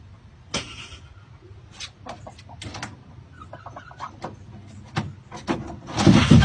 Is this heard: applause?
no